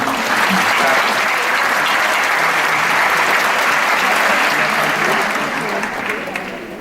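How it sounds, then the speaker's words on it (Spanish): Sustained applause from a conference audience fills the hall, loud and steady for several seconds before tapering slightly at the end, with no talk over it; the event is an international Spanish-language congress in Panama. "Vamos a darle un fuerte aplauso para que se anime."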